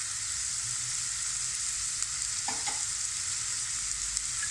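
Vegetables for noodles frying with salt, red chilli and spices in a pan: a steady close sizzle with a few brief scraping stirs partway through, and no talking.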